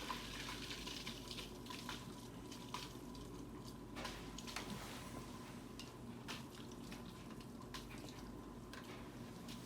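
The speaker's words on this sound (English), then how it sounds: "Okay, filter's running." Water pours and splashes steadily from a running filter in a 10-gallon planted aquarium, with a continuous close trickle and small irregular bubbly pops.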